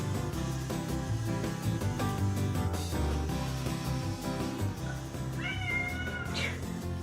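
A cat meows repeatedly over a continuous music bed, its calls rising into a drawn-out insistent whine near the end.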